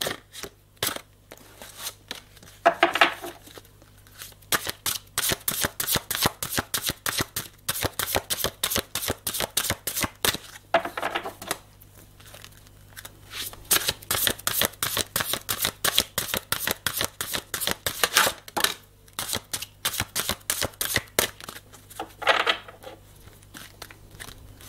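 Tarot cards are shuffled for a reading in long bursts of rapid, crisp riffling and flicking, close and fairly quiet. Brief pauses separate the runs, and there is no talk.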